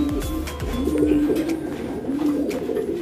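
Pigeons coo in a breeding pen at a loft, with repeated low throaty cooing calls close by over a steady murmur of background noise.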